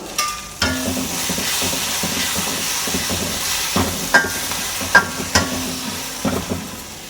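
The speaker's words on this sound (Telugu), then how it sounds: "ఇప్పుడైతే అది ఒక వన్ మినిట్ ఫ్రై చేసుకుందాం" Egg tomato chutney fries in a pan with a steady, close sizzle throughout, broken by several soft scrapes and stirring knocks from a utensil, with no talking.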